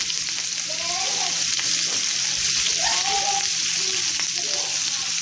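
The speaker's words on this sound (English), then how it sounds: "the meatballs are browning really well, so we're going to turn them" Meatballs for Mexican albondigas soup browning in a frying pan: a loud, close, continuous sizzle with steady crackling throughout.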